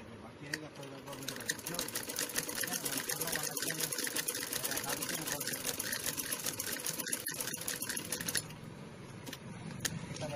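A sewing machine runs steadily while stitching a blouse, its rapid needle clatter continuous and close for most of the stretch before easing near the end, with a voice talking over it.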